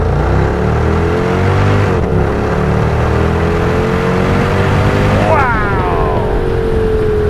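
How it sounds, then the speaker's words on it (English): A Mercedes-Benz CLS 55 AMG V8 revs hard, its loud, steady engine roar climbing in pitch through a gear, dropping briefly at a shift around two seconds, then sweeping up again near the end. "open the window, show you that mighty V8"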